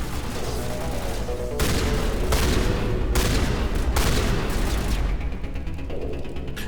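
Gunfire rings out in the video game Mass Effect as a shotgun fires several heavy, loud bursts in fairly quick succession, with mechanical clatter between shots and no voices over it.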